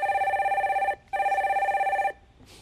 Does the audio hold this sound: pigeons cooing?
no